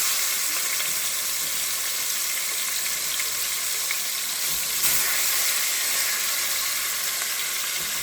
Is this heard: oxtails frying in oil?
yes